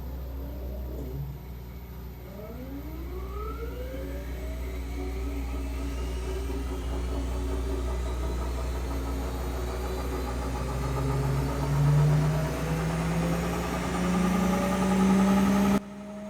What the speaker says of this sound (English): I suspect the drain pump is not good the way it sounds